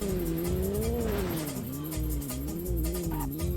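A Penetrator car drives in Grand Theft Auto: Vice City during the Bank Job mission, with a continuous engine drone that rises and dips in pitch as it revs, plus low thuds and faint tire noise, close and steady with no talking.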